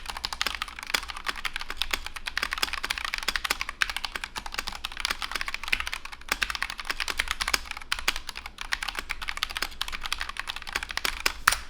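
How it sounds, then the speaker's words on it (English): Steady, fast typing on a custom mechanical keyboard, a dense stream of close, crisp key clicks and clacks at an even moderate level, with no voices. "here's a typing test"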